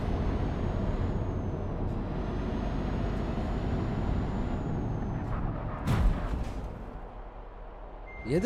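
Truck air brake in Euro Truck Simulator 2 gives a short, sharp hiss midway, rising over a steady low engine drone that continues throughout.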